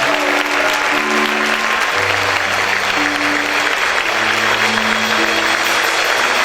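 A church congregation claps loudly and steadily during Spanish-language worship, a dense continuous wash of hands filling the room while sustained musical tones hum underneath.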